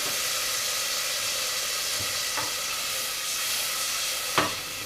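White wine vinegar hitting onions in a hot pan gives a steady, close sizzle and hiss with a few faint clinks of utensils, and no one speaks.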